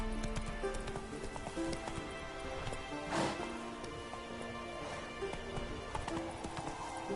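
Roach, the horse in The Witcher 3, gallops along with steady, rhythmic clip-clopping hooves, fairly close but quiet, a brief louder thump partway through, with no talk.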